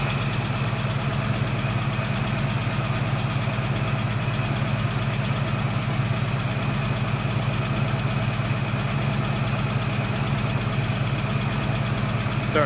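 A 1969 AMC Javelin with a 290 V8 running on its first cold start, a steady loud idle with an even rhythmic pulse and slight knocking throughout, close by with no voices.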